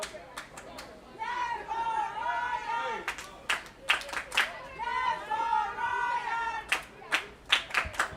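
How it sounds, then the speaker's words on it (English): Royals fans at an 18U youth baseball regional game chant in a rhythmic pattern, with sharp unison claps between sung phrases. The chant sounds moderately distant over a small crowd's chatter. "Some Royals fans trying to get some chants going here, combating the Guardians fans"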